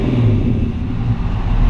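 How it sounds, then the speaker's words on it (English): A 1940 Ford Coupe all-steel resto-rod with a GM performance crate 350 V8 idles steadily, a loud, close, even low rumble with no talk over it. "Very, very healthy GM performance crate engine in here."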